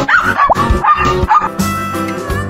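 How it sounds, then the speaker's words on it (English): A dog in a children's animal-sounds animation barks and yips several times in quick, loud bursts, close and alone, with a whimpering edge. "Dog."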